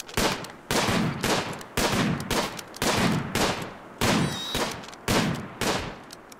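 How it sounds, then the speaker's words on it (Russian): Repeated bursts of rapid gunfire in the RimWorld video game, loud and close, coming in regular volleys roughly every half second to second with no talk over them. "Стрельба на уровне."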